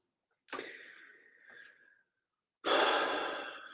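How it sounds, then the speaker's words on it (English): A single slow, deep breath during a calm guided meditation: a long, airy inhale, a brief pause, then a fuller, louder exhale, close and unaccompanied. "Take a deep breath."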